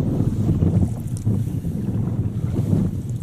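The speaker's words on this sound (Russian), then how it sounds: "но ветер, ветер" Steady wind gusting and rumbling against the microphone on a river trip towards the Lena River, a low continuous roar with no voices.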